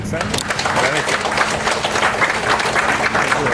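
Audience applause for the government at a public event opening a masjid and aquaculture centre, steady dense clapping filling the room at moderate loudness for several seconds, with a low hum and faint voices underneath.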